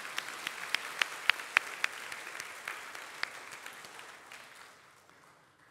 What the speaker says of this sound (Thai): ให้เราปรบมือขอบคุณพระเจ้าอีกครั้งหนึ่ง